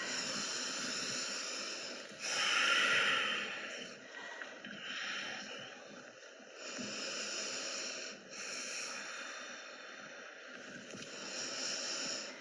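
Slow, deep breathing during a chair yoga session: long airy inhales and exhales repeat in steady cycles, close and fairly loud, with no talking.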